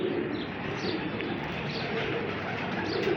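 Pigeons coo softly in a loft amid a dense, continuous murmur of low bird calls, moderately loud and steady throughout.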